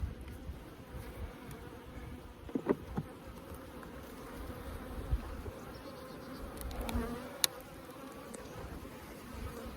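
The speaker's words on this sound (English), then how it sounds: "Looks like it's covered both sides pretty heavily with bees." Dense, steady buzzing of many honey bees at an opened Layens hive, a continuous drone with occasional louder passes near the microphone.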